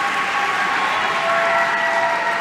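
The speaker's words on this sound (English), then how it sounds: "Let's give our graduates another round of applause" Graduates receive a dense, continuous round of clapping from a large audience at a Melbourne Polytechnic graduation, steady and fairly loud, with a faint tone sustained underneath.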